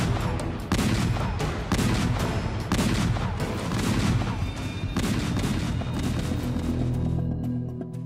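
A WW2 artillery bombardment on the Eastern Front during the Battle of Berlin, with heavy guns including 280mm mortars firing, rolls on in dense, continuous booms and blasts, loud and overlapping, thinning slightly toward the end.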